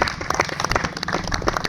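A crowd claps and applauds to welcome wrestlers at a wrestling event, a dense, steady wash of hand claps that stays loud and close throughout.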